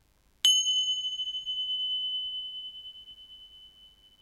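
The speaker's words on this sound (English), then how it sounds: "So I'm just going to get my little bells and we'll do that now for you." Small hand bell struck once, ringing out with a clear, sustained metallic tone that slowly fades over several seconds, close and alone in a quiet room.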